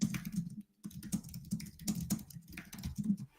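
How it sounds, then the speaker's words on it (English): Someone types a comment on a computer keyboard, producing quick, uneven bursts of close key clicks with brief pauses between them and no talking. "I'm going to type a comment in there myself"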